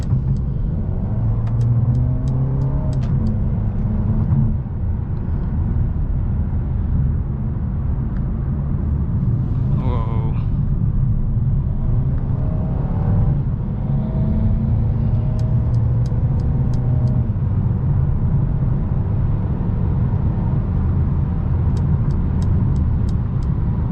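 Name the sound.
2021 Mercedes-Benz A 220 4Matic sedan accelerating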